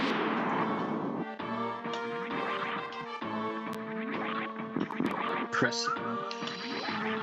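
Power bomb explosions in a Metroid video game boom and ring out with layered bursts and bright tonal effects, repeating in irregular succession over game music, fairly quiet overall.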